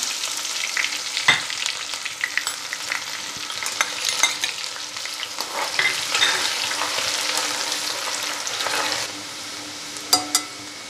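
Asafoetida and onion frying in hot oil for a chilli dish, a continuous bright sizzle close by with occasional spoon scrapes and stirring, no speech.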